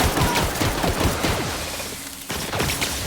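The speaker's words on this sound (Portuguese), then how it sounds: "Vou atirar na cabeça pra ver se dava mais dano" Gunfire in The Outer Worlds video game: a rapid, loud fusillade of sharp shots in a dense, uneven rhythm, briefly thinning before another burst resumes.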